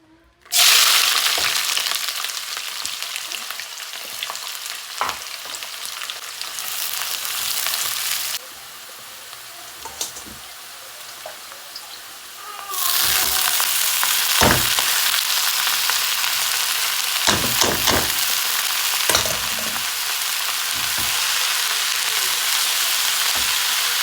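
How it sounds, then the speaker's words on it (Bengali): Chopped onion, garlic and green chillies drop into hot oil after fried chillies are removed, giving a sudden loud sizzle that settles into steady close frying, with occasional scraping stirs. "মরিচ ভেজে তুলে নিলাম এখন দিয়ে দেবো কেটে রাখা পেঁয়াজ রসুন আর কাঁচামরিচ"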